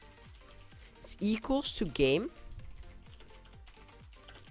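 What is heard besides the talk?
typing on a computer keyboard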